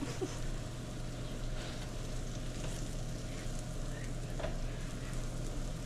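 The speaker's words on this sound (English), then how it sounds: "Just might as well make a brown butter pancakes, right?" A pancake frying in browned butter on a stovetop gives a faint, even crackling sizzle that holds steady throughout, with only a brief tap near the start.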